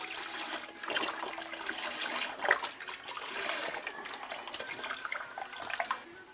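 Water runs and splashes inside a box being rinsed out, a steady close trickling and sloshing that continues throughout without any voices.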